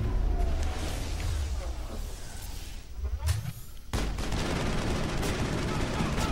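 Rifle fire in the Mass Effect video game, with steady noisy bursts of shots under background game sound and a sharp loud shot partway through.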